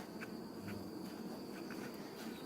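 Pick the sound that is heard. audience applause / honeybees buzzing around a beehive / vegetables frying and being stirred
honeybees buzzing around a beehive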